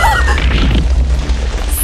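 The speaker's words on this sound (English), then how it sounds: "Something caused a massive explosion!" A massive explosion in a video game: a loud, deep, rumbling boom that fills the whole moment and fades into a low roar, alone without talk.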